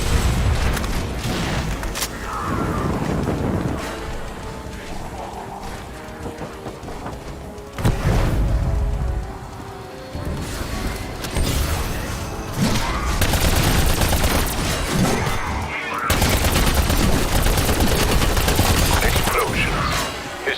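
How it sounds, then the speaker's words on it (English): Semtex grenade explosions and heavy gunfire in a Call of Duty game: dense rapid bursts of shooting run throughout, punctuated by loud booming blasts, with no pause in the combat noise. "Explosions. Is that the extent of Requiem ingenuity?"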